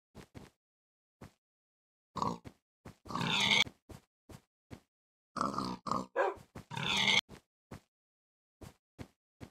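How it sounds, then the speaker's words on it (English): Pigs in a video game grunt in short, scattered snorts, with two longer, louder squealing grunts in the middle, heard alone against silence. "The damn pigs."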